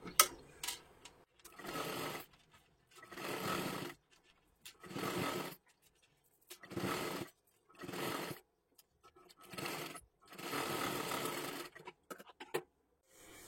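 Sewing machine running double stitching along a garment sleeve seam, about eight short bursts of rapid mechanical whirring separated by brief pauses, close and fairly quiet.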